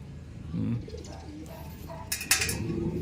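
Soft, low cooing from birds close by, with scattered rustling and a few brief sharp bursts of higher noise toward the end.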